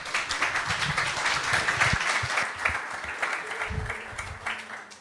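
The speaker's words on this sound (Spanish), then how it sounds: "Un aplauso, por favor, para nuestro…" An audience at a university forum on affirmative action and interculturality in higher education applauds steadily for an introduced speaker, a dense even patter of many hands throughout.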